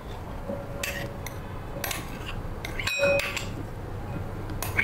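Metal spoon clinking and scraping against a bowl while sabudana vada ingredients are mixed, a few scattered close clinks with one brighter ring near the end.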